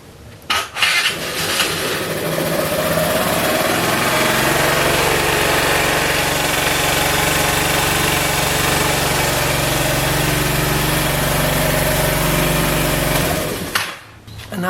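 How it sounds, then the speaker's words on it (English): A Piaggio BV 250 scooter engine starts, runs at a steady loud idle for several seconds, then shuts off abruptly. "I'm going to start the engine and let it run for a few seconds."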